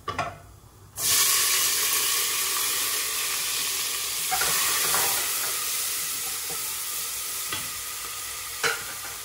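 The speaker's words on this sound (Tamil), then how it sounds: "கொஞ்சம் பொரிஞ்சு வரட்டும் ஆனியனையும், இந்த க்ரீன் சில்லியும் நான் இப்போ ஆட் பண்ண போகிறேன்" Onion and green chilli frying in a pan for jeera rice, a loud continuous sizzle that bursts in after a second of quiet and holds steady throughout, with occasional scrapes of stirring close by.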